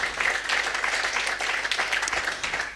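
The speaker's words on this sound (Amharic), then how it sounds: "አጨብጭቡ ለጌታ ክብር።" A church congregation clapping in praise, a short burst of dense, continuous applause filling the hall, moderately loud and steady from beginning to end.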